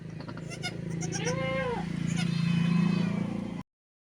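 Goats and newborn goat kids bleating in a farm shelter, a few wavering nasal cries from close by, one long drawn-out bleat in the middle, over a constant low hum that cuts off abruptly near the end.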